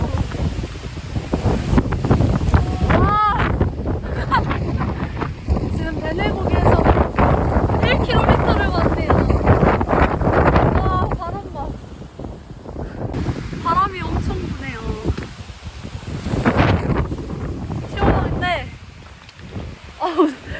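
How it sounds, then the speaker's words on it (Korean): Strong wind gusting across a mountain ridge among silver grass in the Yeongnam Alps, buffeting the microphone in loud rushing waves, with people talking over it. "근데 생각보다 엄청 많이 날리네. 바람이."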